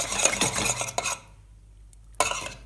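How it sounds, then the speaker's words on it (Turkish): A wire whisk beats a milk mixture quickly in a pot, giving bursts of rapid scraping and clinking against the metal, then a short pause before the whisking resumes. "çırpma teli alın ve karıştırmaya başlayın. Yavaş değil, hızlı karıştırıyoruz."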